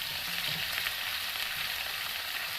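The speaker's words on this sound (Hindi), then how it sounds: "अब हम शामिल करेंगे लहसुन अदरक पेस्ट" Garlic-ginger paste sizzles and fries steadily in hot oil with medium-browned onions for mutton liver masala, a continuous close crackling hiss with no talk.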